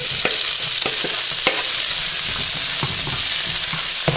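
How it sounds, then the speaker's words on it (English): Bell peppers sauteing in a pot for Jamaican brown stew chicken, a constant loud sizzle broken by repeated clacks and scrapes of a stirring utensil, close up with no voices. "go ahead and saute your peppers"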